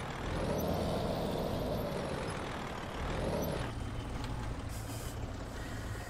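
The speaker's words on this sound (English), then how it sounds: "that squeaking right there sounds horrible" A truck engine in Euro Truck Simulator 2 rumbles steadily while high, whining squeaks like a failing wheel bearing rise and fall over it, with a hiss near the end.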